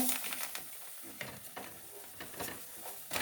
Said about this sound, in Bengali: এবার এর মধ্যে এক কাপ সুজি দিয়ে দেবো